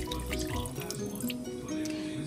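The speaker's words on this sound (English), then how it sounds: "Then we're going to pour some water in to be the ocean." Water poured into a shallow land bridge model to form an ocean, a steady splashing and trickling stream close by with a faint low hum underneath and no talk.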